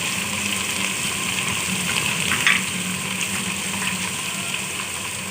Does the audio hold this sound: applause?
no